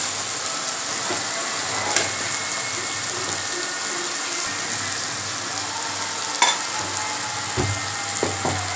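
Steady sizzling of chili powder and spices frying in oil in a pan for a dried fish curry, with a few sharp clinks and scrapes of a utensil stirring.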